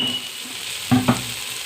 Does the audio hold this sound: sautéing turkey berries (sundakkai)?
yes